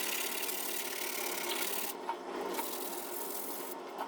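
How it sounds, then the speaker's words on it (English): A sanding sponge lightly rubbed across soft wood filler on beat-up door or window trim, giving a steady, close, continuous rasping scrape with a brief pause midway and no talk. "So I'm going to get my sanding sponge and lightly move across it."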